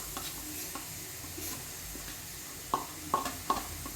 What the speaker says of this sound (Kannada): ಮಸಾಲೆ ಒಟ್ಟಿಗೆ ಹಾಕ್ತಿದ್ದಾರೆ ಫ್ರೆಂಡ್ಸ್.